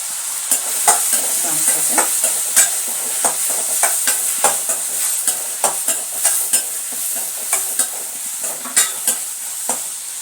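Tomatoes fry in a pan for kovakkai kuzhambu, with Tamil cooking, a steady bright sizzle punctuated by frequent rhythmic scrapes and knocks of a spoon stirring against the pan.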